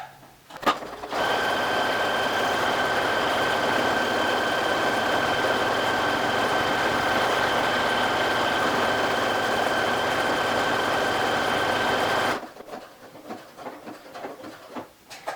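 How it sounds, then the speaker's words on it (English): A sewing machine stitches a buttonhole in one continuous, loud, close-up run of about eleven seconds, a steady fast whirring drone with a faint whine, then stops abruptly, followed by quiet handling noises. "Now my machine will pull the threads to the back and cut them."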